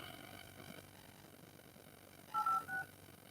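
Telephone keypad tones during a real estate cold call, a few short beeps in quick succession near the end, faint and clean over a low background hum.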